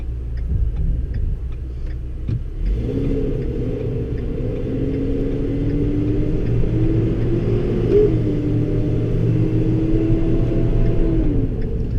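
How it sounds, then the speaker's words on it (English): A 2017 Ford F-650 U-Haul truck with a V10 engine starts moving, its deep rumbling drone rising in pitch as it accelerates, with faint ticking early on and no talking. "It is a V10 powered truck."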